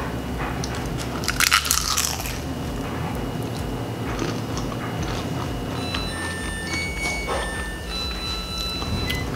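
Homemade fried crab rangoons filled with spicy cream cheese are bitten into up close, with a cluster of crisp crunches early on, then quieter chewing over a steady background hum.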